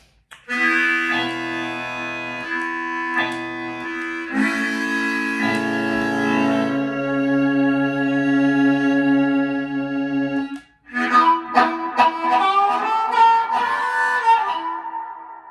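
A harmonica plays sustained chords and single notes through distortion and reverb effects pedals, heavy distortion, with long reverb tails ringing out between phrases; no talking.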